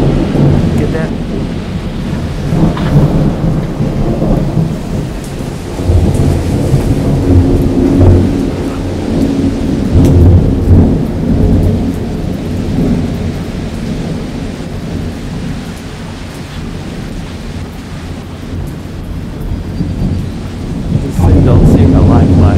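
A thunderstorm with heavy lightning in an orange-lit sky: steady rain hiss under repeated low thunder rumbles that swell and roll throughout, with a louder crack near the end.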